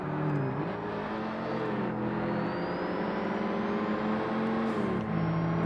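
Car engine in the Forza Motorsport video game, a loud sustained high-revving drone with pitch sweeping up and down as it strains near the limiter, steady and close with no talking.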